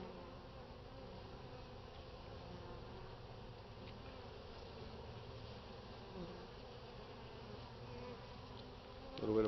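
Honey bees buzzing steadily around an open hive during a spring inspection, a dense continuous drone close to the microphone with a brief louder rustle at the very end.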